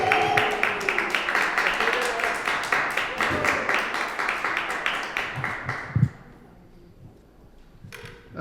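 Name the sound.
audience applause for comedian John Jack Sebastian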